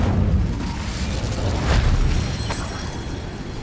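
An Incendio fire spell cast in Hogwarts Legacy gives a low, rumbling whoosh of flame, a steady burst with a brief swell in the middle, heard alone.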